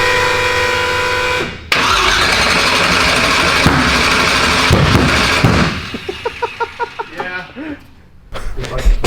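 A supercharged burnout truck engine rumbles loudly, cuts out, then restarts with rhythmic cranking pulses before catching again; a voice talks over it.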